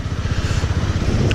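Engine of a crashed Suzuki GSX-R 1000 motorcycle running with a steady low pulsing throb, revved only gently, close and fairly loud with no talking.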